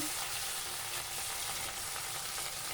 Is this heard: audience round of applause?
no